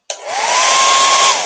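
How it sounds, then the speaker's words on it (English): A hair dryer on its low setting drying a painted Dollar Tree pumpkin craft, a steady close whoosh that starts abruptly and holds an even pitch and loudness throughout. "I'm going to finish drying this just a little bit with the hairdryer."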